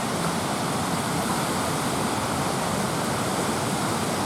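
Rushing water at a small drop on a Wisconsin river, either a waterfall or rapids, makes a loud, steady broadband roar heard up close with no voices.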